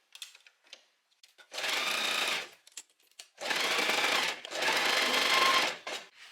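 Three bursts of a sewing machine stitch back and forth over a thin strap on a little black dress, each a few seconds long and separated by quiet pauses with faint handling clicks.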